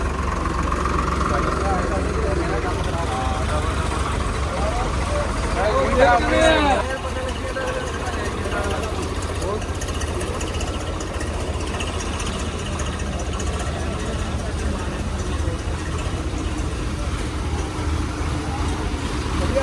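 A tractor engine idles with a steady low rumble near a flooded Sutlej riverbank, where crowds of villagers gather to fill soil bags; murmuring voices and chatter continue over it throughout.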